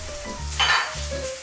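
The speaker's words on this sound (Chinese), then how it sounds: "今天做的是双面煎的荷包蛋，因为我们要充分的煎出鸡蛋的香味来，两面都煎成金黄色就出锅" Fried eggs, cooked on both sides, sizzle in a pan with a bright crackling hiss that swells in the middle. Low tonal sounds run underneath.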